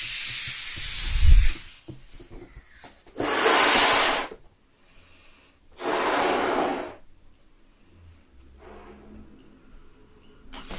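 Air blown into a balloon by mouth, close and breathy: three long, loud hissing exhalations separated by quieter pauses with faint rubbing and breathing, no talking.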